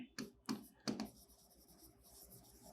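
An accounting journal entry written by hand on paper, with three quick scratchy pen strokes close up, then faint continued scratching.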